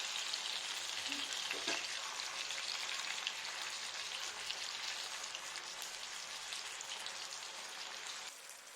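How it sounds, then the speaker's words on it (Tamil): Chicken frying in oil on a tawa, a soft, steady sizzle with rain-like crackle and faint stirring, fading slightly at the close. "எண்ணெயிலேயே சிக்கன் நல்லா வதங்கணும்."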